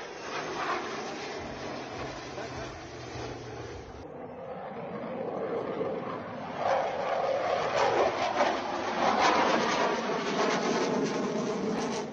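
A Tejas MK1A fighter jet takes off at Nashik with a broad jet-engine roar that holds steady at first, then swells louder and fuller from about halfway through.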